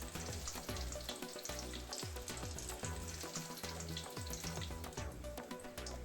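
Eggplant omelet frying in oil, a steady close crackle and sizzle that runs throughout with no voices.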